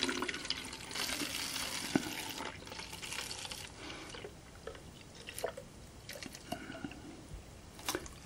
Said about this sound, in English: We just need to fill up the bottle with water